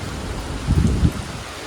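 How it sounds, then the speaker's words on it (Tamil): Rain falls with steady hiss during a train journey from Chennai to Mumbai, with a few low rumbling thumps briefly rising in the middle. "மழை"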